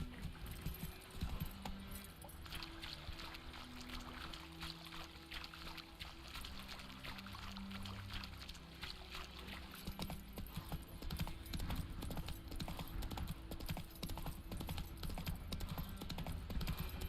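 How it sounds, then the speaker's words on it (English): Geralt's horse in The Witcher 3 video game plods through water, with soft, repeated hoof clops and faint splashing and trickling, low in level over a steady game ambience. "Wanted Roach to go for a swim with me, but no."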